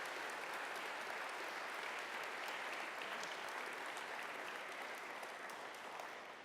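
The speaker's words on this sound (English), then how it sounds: "I would like to hear a round of applause for all of the investors involved in the New Ventures program." Continuous crowd applause for investors at a New Ventures demo day, dense and uniform, faint in level and tapering slightly at the close.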